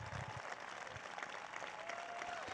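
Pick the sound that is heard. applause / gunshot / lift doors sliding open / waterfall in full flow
applause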